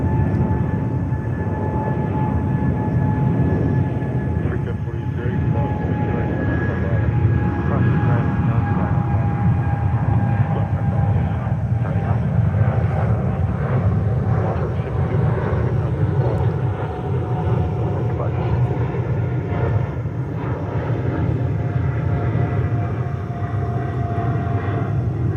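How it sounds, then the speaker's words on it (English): A Turkish Cargo Boeing 777 jet at JFK airport fills the air with a loud, sustained engine roar that holds steady and near for the whole stretch, with people's voices mixed in beneath it. "Turkish Cargo, 777, not a common sight here."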